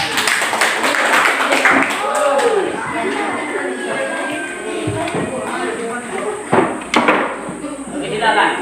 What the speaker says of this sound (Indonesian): mari kita sambut kelompok Diva dengan tepuk tangan